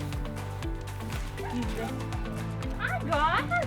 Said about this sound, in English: We have 2 rescue dogs and then our own dog named Wrigley.